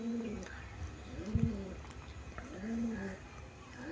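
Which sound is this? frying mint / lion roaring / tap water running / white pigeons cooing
white pigeons cooing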